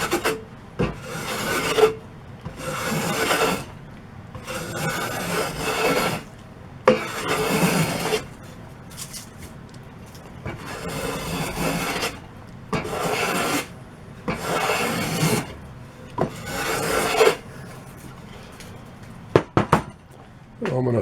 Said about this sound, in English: If I come in this way, the blade on the plane is probably going to catch the grain and might gouge out